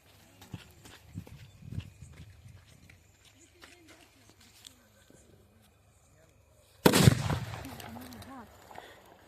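A sutli bomb firecracker blasts with a single loud, sharp boom during village Diwali celebrations, preceded by faint voices and scattered rustling, and followed by a fading rumble and debris.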